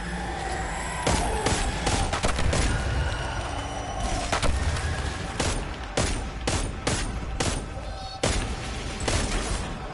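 Scout rifle shots crack in quick, uneven bursts during a Destiny 2 dungeon run, loud and close over busy game effects and a dense background wash.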